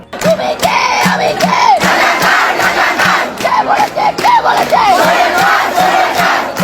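Student protesters chanting slogans in unison, loud, rhythmic call-and-response chants with rising shouted phrases repeating over a roaring crowd, continuous and close.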